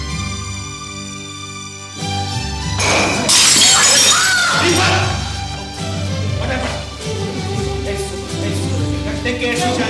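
Glass shatters loudly in a dramatic TV serial scene, a sudden crash with scattering fragments, set against a steady musical score.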